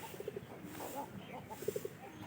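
A pigeon gives soft, low cooing in two short rolling bursts, near but quiet, over faint background noise and a hint of a voice.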